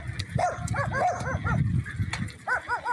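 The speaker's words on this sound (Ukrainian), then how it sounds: "от одні собаки бігають" Several dogs bark and yelp in a burned-out village, giving repeated short, rising barks at mid distance over a low rumbling background, with brief faint voices.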